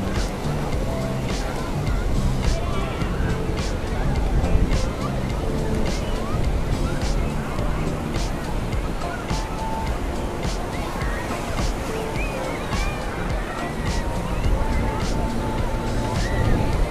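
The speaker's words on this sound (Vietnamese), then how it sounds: "Nước này cả nhà nhìn sóng nè, sóng vỗ xô bờ luôn." Sea waves wash and crash onto the shore at a crowded Vung Tau beach during Tet in strong wind, a dense, loud, continuous roar of surf and gusts with crowd chatter mixed in.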